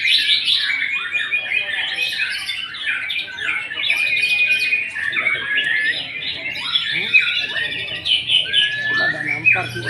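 An agitated white-rumped shama calls continuously at close range, a dense stream of sharp squawks, chirps and whistled notes.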